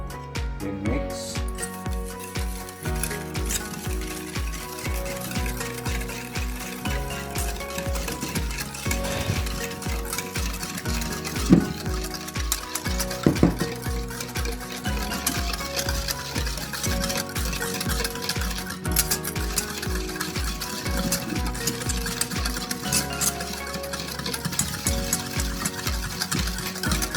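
Homemade BBQ sauce being stirred in a pan after a little oil is added, with a steady rhythmic scraping and faint sizzle continuing throughout, alone without talk.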